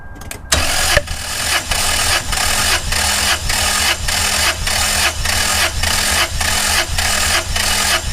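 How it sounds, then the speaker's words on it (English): A car engine cranking over on the starter during a compression test with the throttle held wide open, a steady rhythmic whir-chug of regular compression pulses running loud and close for several seconds after a brief click at the start. "Now he's gonna turn over the engine till I tell him to stop"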